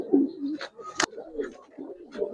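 A pigeon pair in a loft cooing in repeated low warbling phrases, close by, with a couple of sharp clicks or knocks between them and a voice briefly present.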